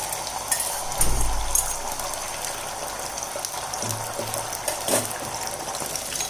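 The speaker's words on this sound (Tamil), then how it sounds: "4 முட்டை நான் அதில் அடிச்சிருக்கேன், அதை சேர்த்துக்கிறேன்." Four beaten eggs poured into hot oil in a pan give a brief low splash and sizzle, followed by quiet, steady frying crackle at moderate distance.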